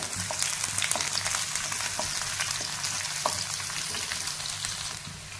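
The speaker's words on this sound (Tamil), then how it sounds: "இது கூடவே ஒரு பெரிய வெங்காயத்தையும் சேர்த்து நல்லா வதக்கிக்கலாம்" Chopped garlic and onion sauté in a pan with a loud, dense, continuous sizzle and occasional stirring clicks, and no talk over it.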